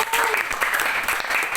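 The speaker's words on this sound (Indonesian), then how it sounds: "oke, berikan tepuk tangan untuk" A classroom full of people claps steadily, a dense, even patter of applause that carries on without a break.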